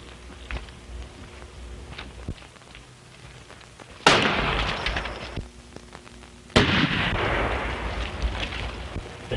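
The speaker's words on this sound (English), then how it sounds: "The shot came from back of those rocks." Two loud, sharp gunshots in a 1933 western film, each followed by a long ringing echo as if fired from behind rocks, over a faint hissing background.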